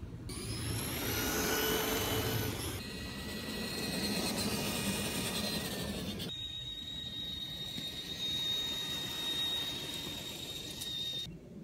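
Stock RC monster trucks, including a Gravedigger and a Clawbuster running on the same battery, race past in a speed test with a loud, continuous motor whine and tire roar, alone without talk.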